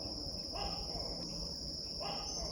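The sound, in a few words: Tokay gecko call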